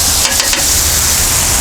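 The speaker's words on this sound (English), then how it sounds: "I thought I was going to save them mushrooms, but I like them fried up" Peppers and mushrooms fry on a hot Blackstone griddle, giving a steady dense sizzle with a few quick scraping stirs near the start.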